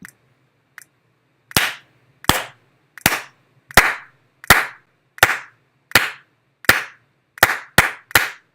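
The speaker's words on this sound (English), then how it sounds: "that shows you how we're clapping" Eleven sharp hand claps in a steady, even rhythm, each crisp and close, following two faint taps, with a low hum underneath.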